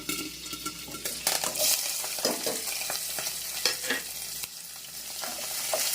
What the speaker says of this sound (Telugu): ఇది కొంచెం ఫ్రై అవనిద్దాం